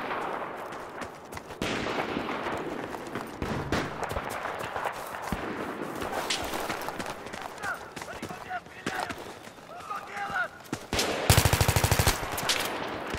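Rapid automatic gunfire from a video game gun fills the scene in dense bursts, with a sharp, fast-repeating volley near the end, mixed with other game noise and some talk underneath.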